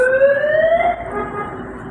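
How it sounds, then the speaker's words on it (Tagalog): An LRT train's door warning buzzer sounds a loud, steady electronic tone continuously, slightly rising in pitch, over a low rumbling hum. "narinig na po ang warning buzzer, hudyat ito na magsasara na ang mga pintuan ng tren"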